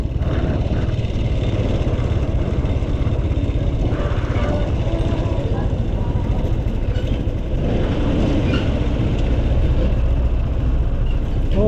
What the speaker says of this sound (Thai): โอ้รถบรรทุกเต็มเลยบ่เนี่ย